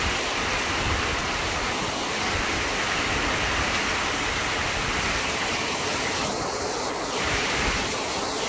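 Heavy rain driven by a windstorm at Ban Bo Noi, Chiang Kham, Phayao, Thailand, strong enough to snap banana trees: a steady, dense broadband roar of downpour and wind that holds loud throughout, with brief gusty swells near the end.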